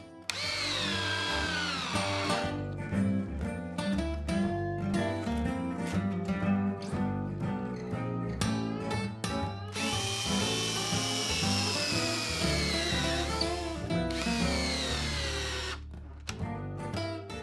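A power drill whines and revs repeatedly, boring pilot holes into wood with rising and falling pitch, loud and close, with short pauses between bursts.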